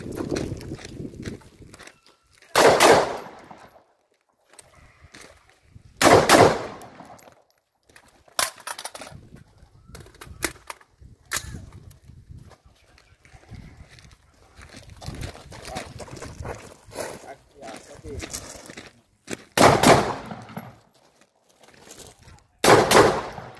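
Gunshots fired at a barricade on an outdoor shooting range, several loud sharp reports spaced seconds apart with quieter clatter and movement between, plus some shouted commands.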